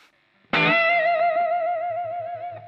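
A single sustained distorted electric guitar note with wide vibrato, loud and close, ringing for over two seconds with a muted chug underneath near the end.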